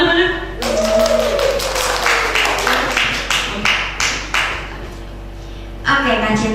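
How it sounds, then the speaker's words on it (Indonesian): An audience at a talent show claps, a dense patter of many hands that swells and fades over several seconds, with a host talking over and after the applause. "Tepuk tangan banyak"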